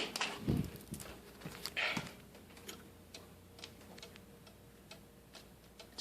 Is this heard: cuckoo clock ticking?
yes